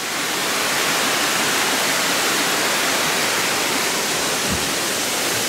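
Steady, loud rush of a waterfall and mountain stream on a forested trail at Mount Mito in Okutama, a broad continuous roar close by with no voices, holding even throughout.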